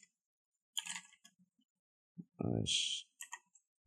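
Keys clicking in short bursts on a computer keyboard as a command is typed into a Linux terminal on Arch Linux, with a brief spoken sound partway through.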